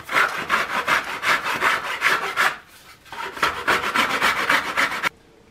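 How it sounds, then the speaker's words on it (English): A pine wooden boat keel is shaped with a file in quick, even rasping strokes, close and loud, with one brief pause midway before the strokes resume and then stop, and no talking. "when we file the keel now, we just want to make the edges of the keel come to that center line"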